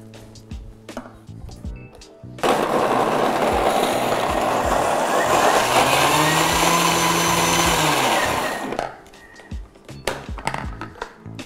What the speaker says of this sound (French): Donc là, on va commencer à mixer cette première étape.